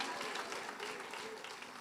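A church congregation at a Lord's Supper service applauds, a dense, sustained wash of many hands clapping at once, with a voice speaking over it.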